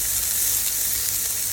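Green chilli and onion frying in a little oil, with a steady, close, bright sizzle that holds evenly throughout and no voices.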